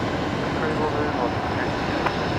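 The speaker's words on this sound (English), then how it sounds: "The A330-300 coming in." Airbus A330-300 airliner coming in to land on runway 19 left at Brisbane Airport at night, a steady broad engine roar heard from a distance, with a voice talking over it.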